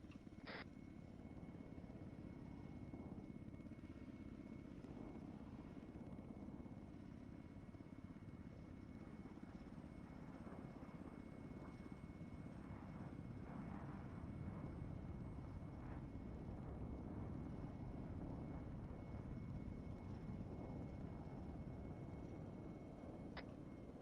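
Military aircraft in a video game taking off from runway 18, a constant loud engine roar with a low rumbling drone that holds steady throughout, with no voices.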